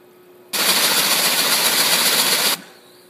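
A Driploc Stinger rotary cleaning head spins up abruptly into a loud, steady whirring hiss for about two seconds, then cuts off sharply into quiet.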